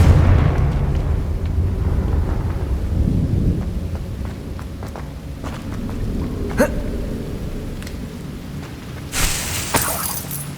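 A Confringo blasting spell in the Hogwarts Legacy video game, opening with a heavy rumbling boom that rolls on for several seconds and fades into a hissing wash, followed by a sharp crack and a brief bright burst near the end.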